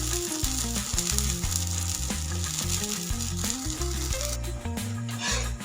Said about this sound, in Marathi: आपण याला आता पलटी करून घेऊ आणि परत कढीने ना थोडंसं अशा पद्धतीने तेल सोडून घेऊ।